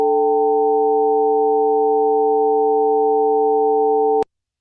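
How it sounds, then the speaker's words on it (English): A synthetic mixture of four steady sinusoidal tones forms a constant, unchanging electronic hum that holds for about four seconds, then cuts off abruptly into silence. "I've added up 4 sinusoids here"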